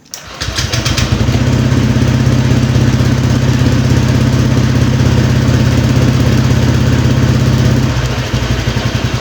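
A motorcycle engine catches after a short starter whir and settles into a loud, close, steady idle that holds evenly for several seconds before the tone shifts near the end, with no talking.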